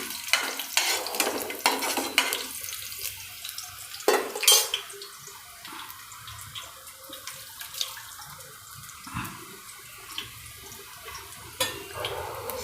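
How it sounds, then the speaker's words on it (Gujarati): Curry leaves and green chillies crackle in hot oil, with soft frying hiss broken by repeated clinks and scrapes of a spoon stirring the pan, close up. "લીમડાના પાન અને મરચાં થોડાક આમ કડક જેવા થઈ જવા જોઈએ"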